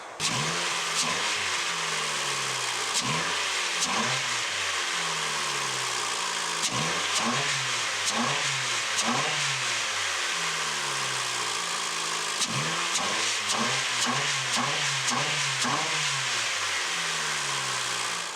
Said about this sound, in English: a 2-litre turbo all-wheel drive motor, and I've also got an AK Racing performance filter in there